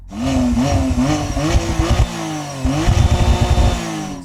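A McLaren Artura hybrid supercar's engine runs loudly nearby, rising and falling through several throttle blips and revs with a rough, droning growl and no talk.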